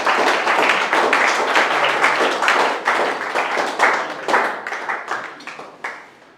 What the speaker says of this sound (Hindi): तो एक बार करसन को तालियों की गड़गड़ाहट के साथ करसन का आप स्वागत करोगे।